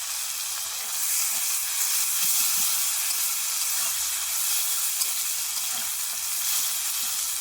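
Onion fries in oil with panch phoron and dried red chili, a steady bright hissing sizzle close to the pan, with faint stirring taps and no talking.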